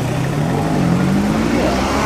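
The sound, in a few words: Yamaha engine revving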